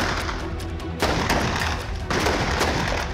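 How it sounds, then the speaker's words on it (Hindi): Many people standing under a pandal fire assorted guns at once, making dense, continuous rapid gunfire with overlapping cracks and booms that stay loud throughout and rise in waves. "पंडाल के नीचे एक साथ कई लोग खड़े हैं और ताबड़तोड़ फायरिंग कर रहे हैं।"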